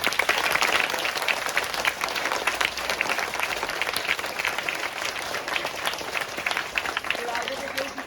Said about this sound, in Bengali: ওদের জন্য একটা বড় করে হাততালি